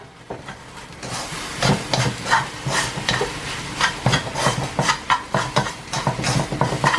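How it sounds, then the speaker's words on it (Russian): Long-grain rice being stirred quickly in an open pot during boiling, with rapid scraping and clinking of a spoon against the pot over a soft hiss of steam, close and rhythmic, without talking. "Открываю, быстро-быстро перемешиваю рис"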